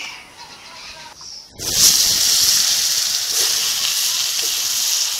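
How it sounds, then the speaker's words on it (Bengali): Potatoes dropped into hot oil for a Bengali eel curry, a sudden loud sizzle that starts after a quiet moment and holds as a steady frying hiss, close up with no talk. "বান মাছের ঝাল করার জন্য এই তেলে আমি আলুগুলোকে ভেজে নেব।"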